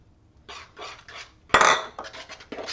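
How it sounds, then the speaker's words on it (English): A whisk clinks and scrapes against a pan while butter is worked slowly into eggs, in steady rhythmic strokes with one louder clatter in the middle. "make sure you whisk it around"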